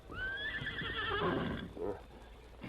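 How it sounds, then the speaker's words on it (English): A horse whinnies softly in a radio drama set at a night camp near a ranch: one long, descending neigh, then a brief snort, close and alone. "The soft whinny of Silver wakened them from sleep."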